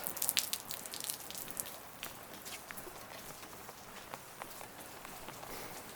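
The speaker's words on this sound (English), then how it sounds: "Wet and rainy, y'all." Steady rain falls outdoors in wet weather near sand, a soft even hiss with scattered drip and patter ticks, slightly busier in the first couple of seconds.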